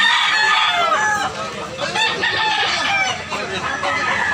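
A rooster crows loudly and close by, the long calls overlapping with other fowl clucking and crowing in the background.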